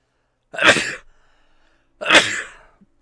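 Two sharp sneezes, each a loud explosive burst about a second and a half apart, with near silence between them.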